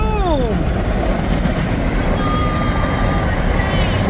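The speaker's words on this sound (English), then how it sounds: "We caught this train." A train rumbles steadily past a rail crossing at close range, loud and continuous, with a horn sounding briefly at the start and a faint tone later.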